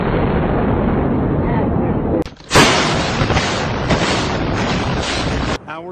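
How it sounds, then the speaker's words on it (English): A heavy, rumbling blast bursts in after a steady roar during the September 11 attacks in downtown New York, followed by a sustained loud crackling rumble that cuts off abruptly. "many smaller explosions rumbled through downtown."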